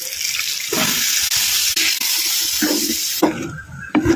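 Plain water poured into a pan of chilli chicken while cooking, a steady splashing gush lasting several seconds, loud and close, ending in a few brief spatters.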